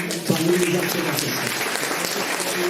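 Spectators clap at an amateur hill-climb cycling race finish, Chastreix-Sancy, a loud continuous burst of applause mixed with crowd chatter and voices close by.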